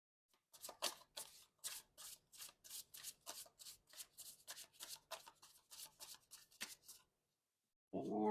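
Tarot cards are shuffled by hand in about a dozen quick, crisp riffling bursts at an even pace, close and fairly quiet, then a short pause before a voice briefly begins.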